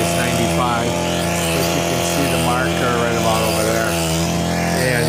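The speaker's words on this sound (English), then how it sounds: "to do the mowing with the riding lawnmower" A riding lawnmower cutting overgrown, roughly five-foot-high grass, its engine droning loud and steady at close range the whole time, with no break in the noise.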